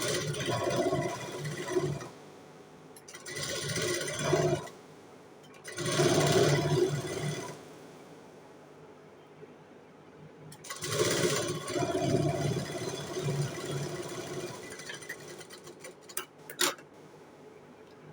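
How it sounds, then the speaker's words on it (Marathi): Sewing machine stitching canvas onto blouse fabric for a boat-neck blouse, running in several short bursts separated by pauses, close and fairly quiet. "पहिले मी इथून शिलाई मारून घेते कारण कपडा हलणार नाही मग."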